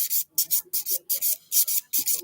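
A 180 grit sponge file rubs across fingernails in quick, crisp, hissing strokes, about eight in a brisk rhythm with tiny gaps between, close and clear with no talk.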